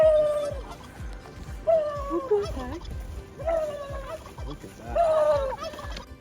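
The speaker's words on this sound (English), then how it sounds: "Turns out Peruvian turkeys speak the same as American, just with a little bit of a Spanish accent" Peruvian turkeys in the Andes gobble in several rapid, warbling bursts, some close and loud, with steady low background noise between the calls.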